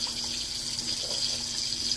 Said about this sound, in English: Just going to give it a good amount of water.